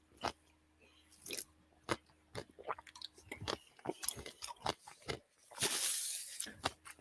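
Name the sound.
somebody munching food crudely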